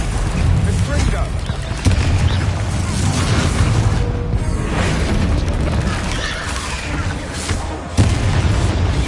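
Repeated Confringo fire-blast spell explosions in Hogwarts Legacy, booming bursts layered over continuous game combat noise and spell casting, with character voices in the mix.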